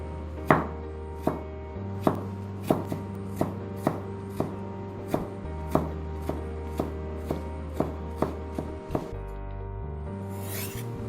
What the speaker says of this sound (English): I'm slicing the ginger first and then I'll be cutting them up into small pieces.